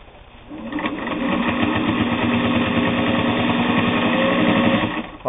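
Heavy-duty Singer 401A sewing machine running steadily at speed, a close, continuous mechanical whir with rapid rhythmic needle clatter that starts after a brief pause and stops abruptly near the end.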